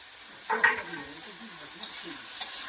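Potatoes and pointed gourd stir-fry in a pan, a steady soft sizzle with a few scraping stirs near the start, close and fairly quiet.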